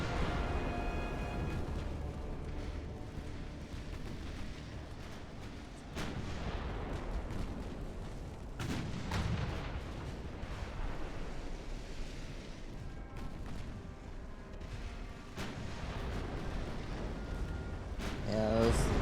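Naval 9-inch guns fire in the warship game Ultimate Admiral: Dreadnoughts, with several heavy booms at irregular intervals over a continuous low rumble of battle.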